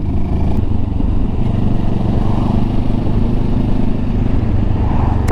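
A Benelli TRK 702X adventure motorcycle at riding speed, its engine giving a steady, loud low drone with constant road rumble and no voices.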